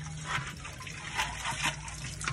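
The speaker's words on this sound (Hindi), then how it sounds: "आओ पानी भरते हैं घड़े में," Tap water runs into a clay pot, making a soft, steady splashing trickle with small gurgling bursts. The sound is close but fairly quiet.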